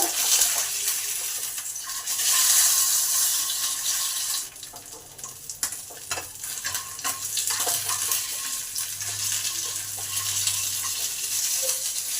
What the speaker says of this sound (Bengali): ভেজে নেবো হালকা করে যতক্ষণ মাছ ভাজা হচ্ছে